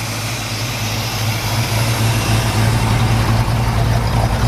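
A 1969 Ford Mustang Mach 1 S Code engine with electronic ignition idles with a steady, deep exhaust rumble, close and continuous, with no talking over it.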